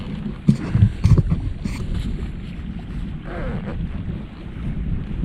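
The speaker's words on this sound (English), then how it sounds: "Some strong breezes. And I'm walking into the wind." Heavy wind buffets the microphone on a late-winter hike at the Sensiba Unit, a continuous low rumble with a few stronger gusts near the start, no voices.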